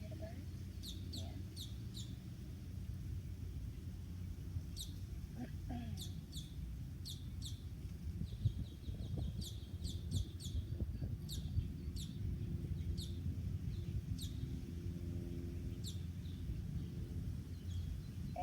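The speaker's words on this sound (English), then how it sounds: "You hear the birds?" Birds chirp and sing outdoors in short, bright bursts scattered across a long stretch, faint and somewhat distant over a low steady background rumble, with occasional soft clucking fowl mixed in.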